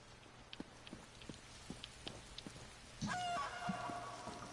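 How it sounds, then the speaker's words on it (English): Light rain in a video game (The Elder Scrolls Online) patters with scattered drops, then a rooster crows partway through, fairly quiet and distant. "it started raining again."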